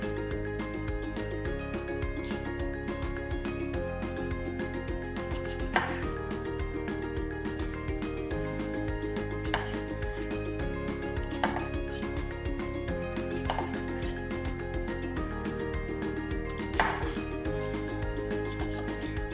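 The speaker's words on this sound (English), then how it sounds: "we're gonna chop these up into cubes for later" Tomatoes being cut into small cubes for Hungarian goulash, knife tapping a board in sparse, irregular strokes under a constant tonal background hum, moderately quiet and close.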